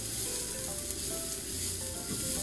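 Onions sizzle steadily as they stir-fry in a pan while a pumpkin salad is made, giving a close, continuous, bright frying hiss throughout with no talking.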